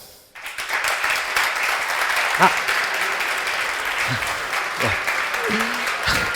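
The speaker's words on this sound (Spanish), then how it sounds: "Muchas gracias por vuestros aplausos" Clapping from a conference audience after a talk, starting abruptly and holding as a steady, fairly loud patter, with a few voices over it.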